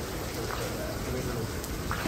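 Steady outdoor rain makes a dense, even hiss of falling drops that runs unbroken throughout, fairly loud and close, with no voices or other sounds over it.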